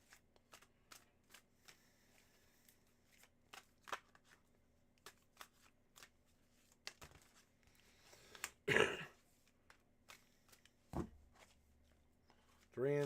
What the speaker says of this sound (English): I have to do my cleansing shuffle